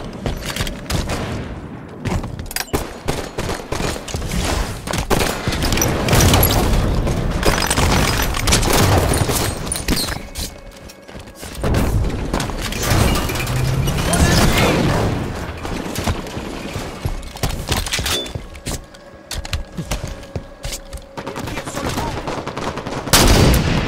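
Halo 5 multiplayer gunfire crackles in dense, continuous bursts and rapid volleys, loud and near throughout, with booming impacts mixed in.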